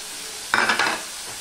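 Tomato with onion and garlic paste, cooking for a Vetki fish kaliya, hits hot oil in a sudden loud sizzling burst that fades within half a second, against a faint background hiss.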